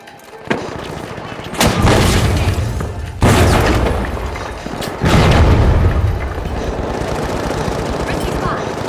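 Four heavy booming grenade blasts in the shooter game The Finals land at uneven gaps, each a loud broadband burst that decays into a rumbling, crackling wash of game noise.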